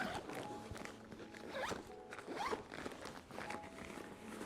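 A compression zip being undone on a large compressible CoreSurf packing cube, the zipper rasping in several short pulls over a few seconds, close and fairly quiet.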